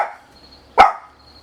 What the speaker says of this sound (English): FedEx truck just pulled up and the dogs could see him, so they were raising hell about that.